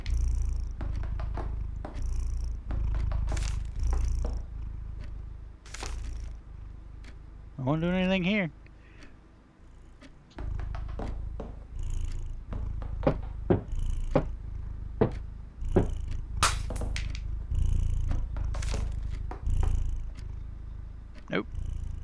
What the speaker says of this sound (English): It's purring like crazy.